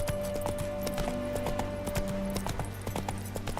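Hooves clip-clop in a fast, steady gallop as the horse runs in The Witcher 3: Wild Hunt, Hearts of Stone, with a sustained musical tone over the rhythm. There is no talk.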